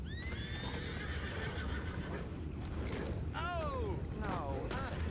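Horses neigh in Red Dead Redemption 2, several loud descending whinnies in bursts over steady clip-clop and wagon creaks, with a voice speaking faintly underneath.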